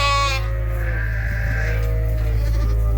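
Hungry sheep on a farm bleating close and loud, one strong wavering bleat at the start over a constant low engine-like hum, with no talking.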